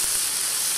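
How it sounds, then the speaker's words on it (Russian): Tomato paste and vegetables frying in a pan for rassolnik soup, a dense, steady sizzle with bright hiss, close and constant, no voices. "Хорошо это все мешаем. чтобы равномерно все обжарилось."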